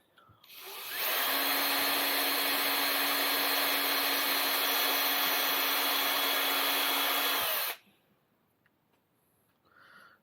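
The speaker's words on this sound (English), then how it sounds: "Just a blunt drill" A blunt drill bores into oak wood in one long steady whine lasting several seconds, loud and close, then stops abruptly, leaving faint room noise.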